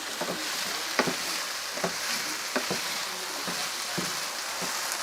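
Chicken hisses and sizzles in a frying pan up close, with frequent small crackles and spits breaking the constant hiss.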